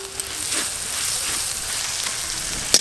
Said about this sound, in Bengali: আদা রসুন পেঁয়াজ আর কাঁচা লঙ্কা ভালো করে ভেজে নিয়েছি।